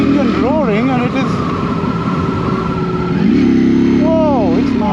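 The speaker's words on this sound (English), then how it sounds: "I can feel the engine roaring" A 2024 Ducati Streetfighter V4 motorcycle engine roars steadily close by, rising and falling in pitch as it revs, with someone talking over the sound.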